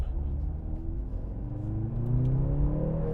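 A 2024 Mercedes-AMG GLC 43 SUV accelerates, its engine and exhaust note rising steadily in pitch as it pulls through the gears, heard from inside the cabin as a smooth, building rumble.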